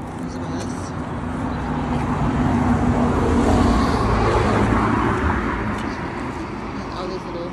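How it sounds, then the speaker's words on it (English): Steady road traffic in a town of small attached houses in Kidsgrove, UK, with cars and heavier vehicles passing nearby in a continuous rush that swells mid-clip, with people talking faintly underneath. "the traffic is quite high right now"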